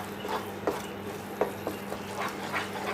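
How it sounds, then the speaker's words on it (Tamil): Jaggery Mysore pak mixture of roasted gram flour and oil being stirred in a pan, giving soft scraping strokes and a few clicks at irregular intervals over a quiet steady background. "இதுக்கு மேலே நம்ம கைவிடாமல் கிளறிக்கிட்டே இருக்கிறது நல்லது."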